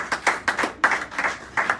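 Church congregation clapping in a steady rhythmic beat, several bursts of hand claps close together, in a short reverberant moment of applause.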